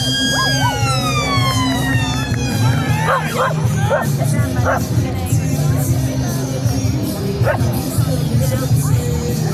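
Police dogs bark in short yips over a steady rumble and a wailing siren, with voices and crowd noise throughout.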